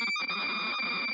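Commodore 64 computer tape data tones play slowed down as a continuous chirping, buzzing warble with a steady high whine over choppy lower pulses, loud and alone with no voices.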